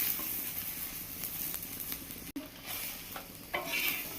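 A spoon scrapes and spreads across a cauliflower paratha frying on a hot griddle, with steady sizzling under repeated stirring strokes and a brief sharp knock midway.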